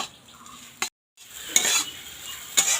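Moong dal frying in oil for kachori, a bright hissing sizzle close by, cut by a brief silence, then returning with sharp scraping spikes of stirring.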